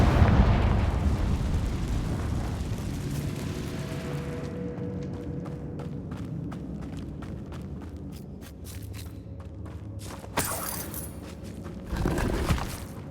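A fire-spell blast in Hogwarts Legacy opens as a loud, broad rumbling burst that slowly decays, followed by scattered crackling pops and small debris hits, with another flare of crackle near the end.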